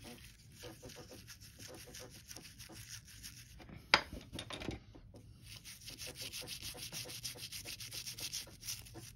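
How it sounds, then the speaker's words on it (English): A brush scrubs a metal part of a Daiwa Millionaire 3RM fishing reel during cleaning, giving close, quiet, rhythmic scratchy strokes interrupted by a sharp click midway before the scrubbing resumes. "Scrub that a little bit."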